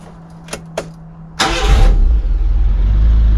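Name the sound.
Nissan Micra K10 engine starting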